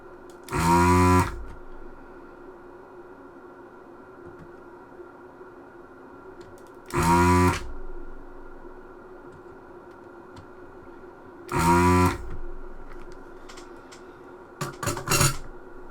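A desoldering pump pulls solder from keyboard switch pins on an Electron computer, firing three sharp, loud, near snaps spaced several seconds apart against a steady background hum, followed by a few quick small clicks.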